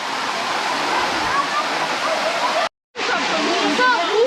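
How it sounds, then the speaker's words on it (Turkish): The eleventh waterfall of Tatlıca Falls in Erfelek, Sinop, gives a continuous close roar of falling water with splashy texture, broken by a short dropout near the three-second mark before the rush resumes. "On birinci şelale burasıymış."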